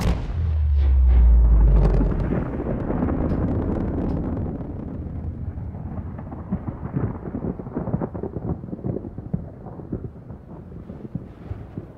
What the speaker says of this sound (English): I probably cut straight to that explosion